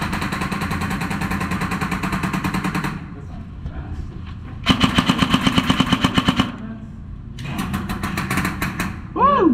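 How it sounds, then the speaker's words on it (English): Automatic gunfire from a suppressed rifle in a team deathmatch video game, sounding as fast, loud bursts of rapid shots separated by brief pauses, with a voice speaking over parts of it. "It's going in between single fire and burst mode and automatic at the same time."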